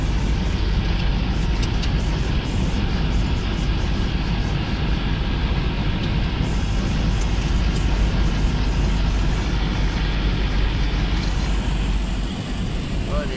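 A Bolero drives along a newly rebuilt road, giving a steady, close engine and road rumble with rattle that runs without a break from start to end, with speech heard over it.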